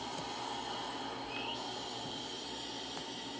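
A GE AC4400CW diesel locomotive in a train simulator game rolls along with a steady broadband rumble and hiss, low and even throughout, with a brief rising whine midway.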